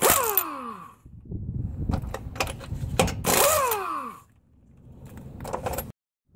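Lug nuts sized 13/16 come off a car wheel under a power tool: two loud bursts of rattling hammering with a falling whine as it spins down, separated by quieter clatter and handling noise.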